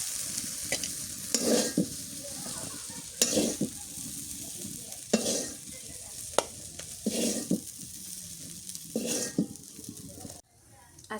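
Okra sizzles in a pan while a utensil stirs it in repeated scraping strokes every couple of seconds, with light clinks against the metal; the frying cuts out abruptly just before the end.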